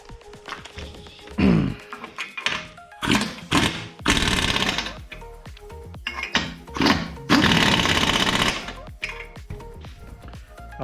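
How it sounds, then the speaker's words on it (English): Power tool driving bumper cover bolts during front-end collision repair in a body shop, several loud whirring bursts of a few seconds each separated by pauses, with clanks and rattles between. "now we're gonna go ahead and just tighten these bolts in here"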